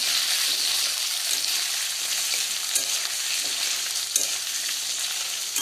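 Potatoes fry with spices over a medium flame for a potato and chana dal curry. A steady, close hiss of sizzling oil carries throughout, broken by occasional soft clicks of stirring.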